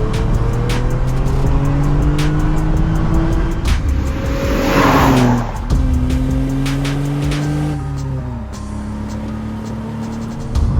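A 1989 Vauxhall Carlton GSI 3000 24V engine revving hard toward 7,000 RPM, its loud, close note climbing, dropping and climbing again in several sweeping pulls.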